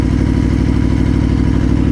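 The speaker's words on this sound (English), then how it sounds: "It makes a lovely noise. I like it. And the exhaust sounds really nice." An Aprilia Tuono 1100 motorcycle engine and exhaust run loud and steady, a close, even, throbbing rumble with rapid regular pulses and no voices.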